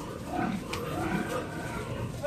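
Pigs on a fattening farm grunt and squeal in a steady, close chorus through the whole stretch, with overlapping calls rising and falling at a fairly loud level.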